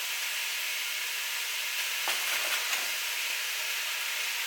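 Ground venison, ground chuck and bacon sizzle in a ceramic cast iron Dutch oven, a steady hiss that swells briefly midway, with no talking.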